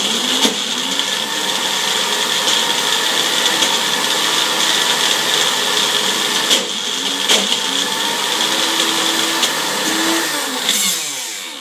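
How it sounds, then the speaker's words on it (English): A steady, loud mechanical whir of a food processor blending overnight-soaked urad and moong dal, running continuously, with brief changes in pitch near the end as it slows. "Now in my food processor, after it was soaked overnight, I blended this"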